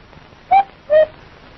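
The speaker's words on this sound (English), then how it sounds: "Wasn't that the cuckoo clock?" A cuckoo clock in a cartoon sounds two short, clear calls, the second slightly lower, evenly spaced and close, with no talking over them.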